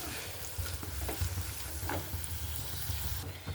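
Papadum frying in hot oil in a pan is stirred, giving a steady soft sizzle with light scraping and stirring scuffs throughout, close but fairly quiet.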